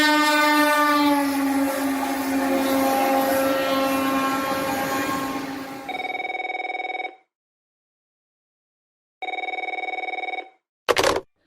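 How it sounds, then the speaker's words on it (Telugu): A goods train near Malakpet station sounds a long, loud, blaring horn for about six seconds with rumbling underneath. Two separate bursts of electronic telephone ringing follow, then a short final trill, with no voices. "ఏజెంట్ 5:30కి గూడ్స్ ట్రైన్ ఉంది"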